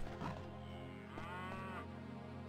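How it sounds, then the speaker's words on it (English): A cow moos once in a long, drawn-out low call inside a dungeon in the game Daggerfall, heard alone over a steady background hum. "There's a cow in the dungeon"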